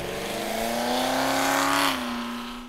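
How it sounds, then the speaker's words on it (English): 1969 Chevrolet Camaro Pro Street big block driving, a loud deep engine note climbing in pitch as it accelerates, then easing off as the revs drop. "All right, let's go for a ride in our Camaro."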